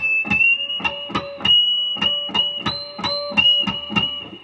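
Electric guitar pinch harmonics in an ad-lib: a rapid run of picked notes with sharp attacks and bright, squealing high overtones ringing over them, played alone and close.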